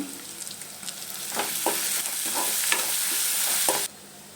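Ground coconut mixture stirred and frying in hot oil, a steady sizzle with scraping spoon strokes in a short burst that cuts off abruptly near the end, no voices.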